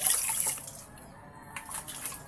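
Water running and splashing at a kitchen sink while dishes are washed, a steady close trickle with small clinks and drips, no talk.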